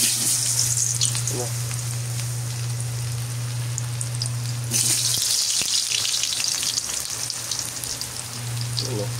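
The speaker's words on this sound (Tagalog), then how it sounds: "Mainit na yung mantika. At ito na. Ipiprito lang natin to." Garlic and onion frying in hot oil give a steady, close, loud sizzle with crackling spatter, easing briefly midway before the full hiss returns, with no talk over it.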